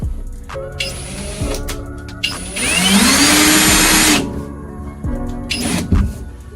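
Power screwdriver driving screws into Switcharoo tiles, several short whirring bursts with one longer rising run in the middle, close and fairly loud, no talking.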